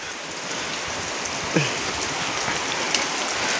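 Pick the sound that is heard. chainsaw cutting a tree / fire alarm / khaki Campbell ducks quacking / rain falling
rain falling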